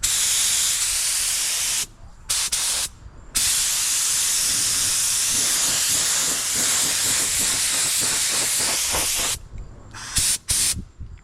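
A spray gun hisses loudly, applying clear coat blender to a car panel in long continuous bursts, with short pauses where the trigger is released.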